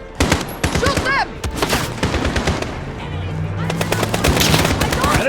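Rapid gunfire in the Call of Duty Modern Warfare remake, loud close bursts of automatic shots in quick rhythmic volleys, with occasional talk and game tones between the shooting.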